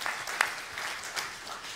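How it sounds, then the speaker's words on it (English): A church congregation at a Sunday service gives a round of applause, a steady broadband clatter of many hands sustained for a couple of seconds at moderate loudness, with no voices over it. "So give yourself a round of applause."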